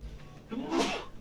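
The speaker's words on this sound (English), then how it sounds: "Just sneezed." A single short sneeze bursts out near the end of a quiet stretch, fairly faint and close, with a soft intake before it.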